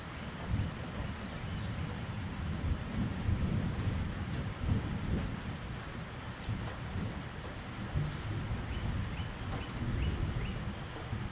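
Steady Florida rain pours down with low thunder rumbling beneath it, a continuous dense wash of sound with no voices.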